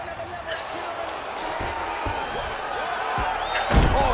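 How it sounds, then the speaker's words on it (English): One fighter slams another to the mat in UFC 4, a sharp thud landing near the end under a commentator's ongoing play-by-play and faint crowd noise. "she slams him to the ground and with authority right there"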